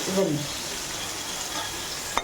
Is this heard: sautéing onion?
yes